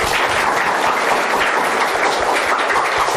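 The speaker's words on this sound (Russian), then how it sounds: "Ваши аплодисменты." Audience applause at a lecture on the search for life and intelligence beyond Earth: dense, steady clapping from a large crowd fills the whole moment at even loudness, with no voices over it.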